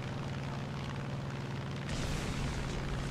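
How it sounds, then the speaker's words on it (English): Aircraft bombs exploding in War Thunder during tank gameplay, a droning aircraft engine followed by a heavy boom that swells into a sustained rumble, loud and close. "Bombs away."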